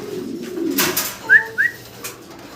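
Two short, soft pigeon coos come close together at a pigeon farm, set against faint background rustling and a few dull knocks.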